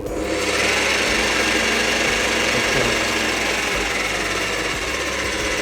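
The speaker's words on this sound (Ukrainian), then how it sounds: "Метал сверлю я на 900 обертах, намітив сверлом." A Scheppach DP55 drill press running with the drill set to about 900 RPM for metal, a loud continuous close-up motor hum and rattling drone with no speech.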